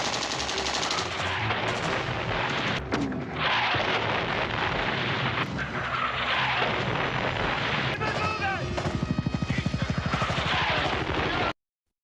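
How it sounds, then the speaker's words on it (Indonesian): Dense, continuous gunfire with rapid machine-gun bursts and heavier missile or artillery blasts from Vietnamese troops during a Vietnam War evacuation, loud and unbroken across the whole stretch, with rattling volleys intensifying near the end. "mereka terus dihujani tembakan dan rudal yang tak henti dilayangkan tentara Vietnam"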